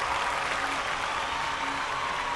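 Steady audience applause for Priyanka's singing, a dense, even wash of clapping held at the same level throughout with no voices on top.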